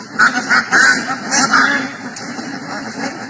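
Pekin ducks of about two kilograms each call at a sale, with loud, close honking quacks in a quick burst of several calls, then fading into a noisy background as someone talks.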